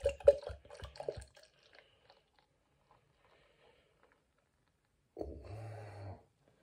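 St Peter's Plum Porter, a 5% ABV dark beer, glugs into a glass in two short bursts, first a choppy, bubbly splash, then after a long quiet gap a steadier, closer pour with a low gurgle and fizz.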